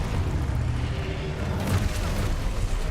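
In Hogwarts Legacy, a Confringo fire spell explodes as a loud, dense, rumbling boom that fills the full three seconds with a steady, roaring blast.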